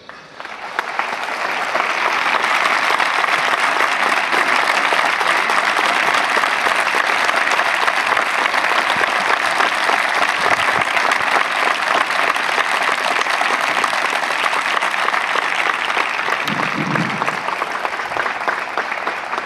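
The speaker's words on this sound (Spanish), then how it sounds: "para ellos debería ser ese aplauso." A large audience applauds the actors at a civic ceremony, a loud, dense and unbroken wall of clapping that holds steady for a long stretch before easing slightly, with a brief voice near the end.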